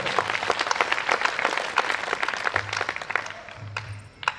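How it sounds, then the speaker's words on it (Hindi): A hall audience at a poetry recitation claps in a short, dense burst of applause that tapers off within a few seconds. "एक बार पूरा सदन ताली बजा के मुझे आ जाए"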